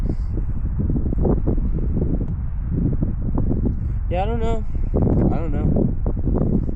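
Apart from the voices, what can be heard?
wind blowing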